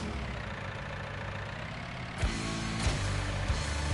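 A tractor engine idling steadily at a low throb in Farming Simulator 19, a continuous mechanical hum with a few soft clunks near the end.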